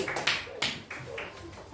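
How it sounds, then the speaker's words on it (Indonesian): Children in a classroom clap their hands, a short, soft run of claps with uneven rhythm, heard alone for under two seconds. "Bagus, tepuk tangan."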